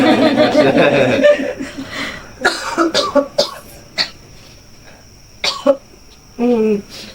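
A run of coughs and throat-clearing sputters mixed with chuckling, close up, with brief pauses between the bursts.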